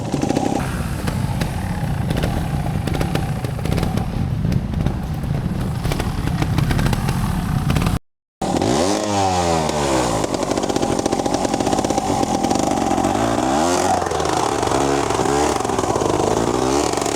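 Trials motorcycle engine running steadily at first, then after a short break revving up sharply in rising surges and holding high; loud, close and continuous with no talk.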